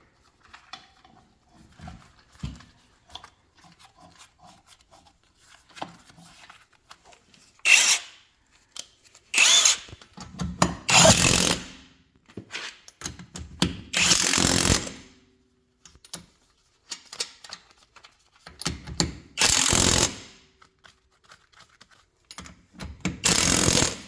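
A power tool drives the wheel lock nut tight while a winter tire goes onto a 2017 Kia Sportage, with several loud, buzzing bursts of a few seconds each separated by quieter handling noises.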